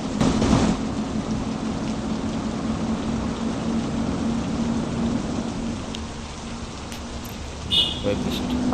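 Rain falls steadily in a truck driving video game, a continuous dense patter with a low rumble beneath it that holds at an even level throughout.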